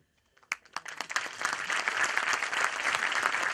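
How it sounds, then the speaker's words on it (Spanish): Applause for Humberto Maturana in Pichidegua, beginning with a few scattered claps and swelling within a second into a dense, steady round from a sizeable audience. "Un fuerte aplauso para don Humberto Maturana"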